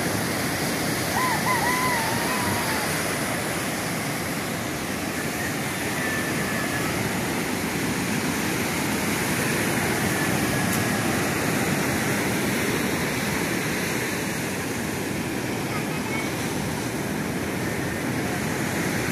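Strong rushing water roars steadily through the night, a dense, unbroken wash that holds at a constant level from start to finish with no pauses.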